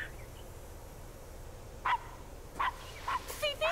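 Dogs in the video game Blue Estate give a few sharp barks and yips, starting near the midpoint and growing more frequent, over a low ambient hum.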